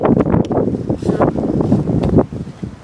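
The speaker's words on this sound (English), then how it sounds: "It's very windy out here" Strong hurricane wind buffets the microphone outdoors in loud, gusty rumbling bursts, a continuous roar with no clear speech.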